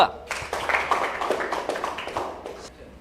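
A school assembly crowd claps for a student candidate pair during a mock election, a dense patter of many hands under continuous overlapping voices, fading slightly toward the end.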